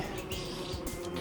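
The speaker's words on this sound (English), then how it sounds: "Oh great, war wasps. They're gonna be a problem." Dense insect buzzing from war wasps in Metroid Prime Remastered, a continuous droning swarm hum that hangs steadily close by for the whole moment, with no voices over it.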